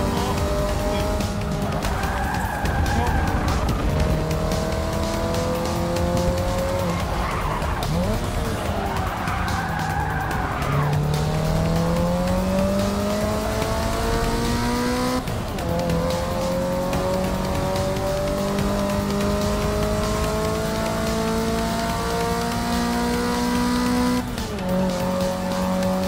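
Engines of racing cars in a Forza Motorsport 6 drag race rev and climb through gear shifts, rising whines repeatedly dropping and building again, with tire squeal, loud and continuous across the race.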